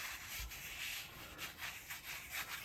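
Fingers rub across the textured fabric of a Coventry City 1994/96 home football shirt, producing soft, faint rustling strokes in a steady back-and-forth rhythm, close up and with no talk.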